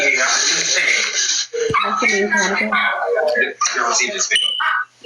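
A dog yips, whimpers and barks in the background beneath loud, continuous conversation.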